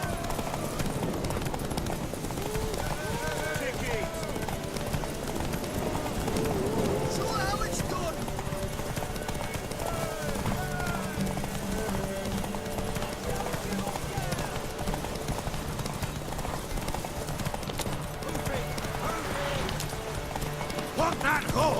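Horse hooves clip-clop steadily with a neigh in the video game The Witcher 3, under a bed of game music and effects, voices speaking over parts of it.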